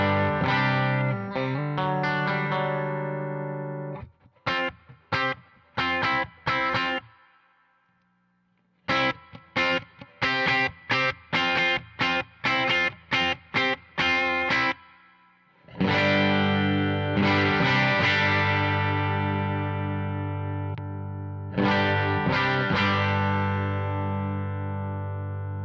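An electric guitar played through a pedalboard on a clean tone, with chords and picked notes, some short choppy strums with gaps and some sustained ringing passages, loud and close with no talking.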